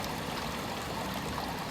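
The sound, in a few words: river flowing from dam gates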